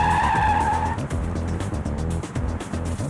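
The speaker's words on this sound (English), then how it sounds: "I'm gonna take this car and I'm gonna skid at 30" Car skidding under hard braking from 30 mph during a braking test, a loud tire squeal with a high whine in the first second, then rough, sustained scrubbing road and engine noise.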